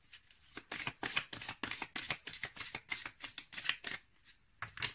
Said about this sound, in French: On va déjà mélanger les cartes.